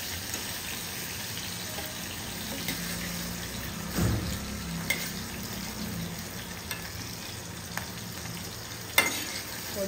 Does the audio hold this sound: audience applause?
no